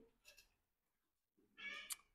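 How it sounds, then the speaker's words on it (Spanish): Two short meow-like cries, a faint one at the start and a louder, higher one after a pause, with no talking. "Uy, eso parece un maullido."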